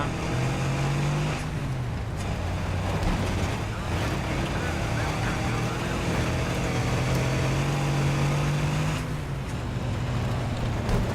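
A jeep drives in Battlefield 3, its engine holding a steady loud drone with shifting pitch and wind rush throughout, while someone talks over it.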